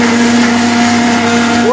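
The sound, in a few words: mixer grinder blending oats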